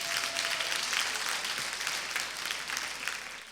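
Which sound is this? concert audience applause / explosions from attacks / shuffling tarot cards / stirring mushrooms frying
concert audience applause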